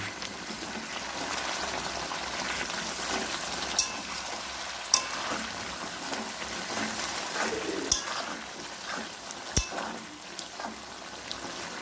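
A spoon stirs duck meat curry mixed with fried spices, giving a continuous soft sizzle and bubbling broken by a few sharp clinks of the spoon against the pot.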